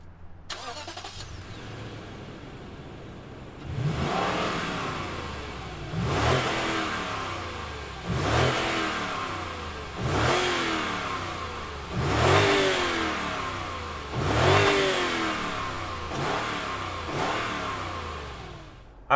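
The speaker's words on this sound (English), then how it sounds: "we got a V8 here. Let's go ahead and fire it up and hear what it sounds like." A 2021 Lexus GX460 SUV's V8 engine cranks and starts, then revs repeatedly in a series of strong, evenly spaced bursts that fall back to idle between each.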